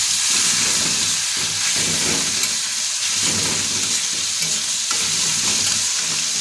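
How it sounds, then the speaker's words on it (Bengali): Eggplant and onion fry steadily in an oily pan for a fish curry, a loud, close, continuous sizzle with occasional stirring scrapes throughout and no voices. "পেঁয়াজ আর বেগুন অনেকটা ভাজা ভাজা হয়ে গেছে"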